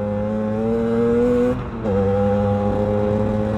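Motorcycle fitted with a cylinder piston kit riding during running-in, a steady buzzing engine drone that drops out and stutters briefly midway, then resumes its even judder.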